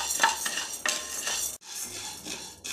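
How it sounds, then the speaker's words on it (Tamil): Urad dal and chana dal dry roasting in a pan, a spoon scraping and stirring in quick bursts, the lentils rattling and hissing against the metal, close and clear. "உங்களுக்கு நல்லா வறுக்கும் போதே சலையர் சலையர்னு சத்தம் கேட்கும்."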